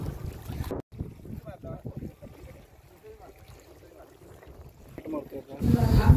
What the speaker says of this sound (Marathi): हँडलने ही होडी स्टार्ट झाली, इंजिन स्टार्ट झाले